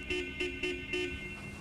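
A car horn honks four short times in a quick, fairly even rhythm, moderately loud over a low background rumble, with no talking.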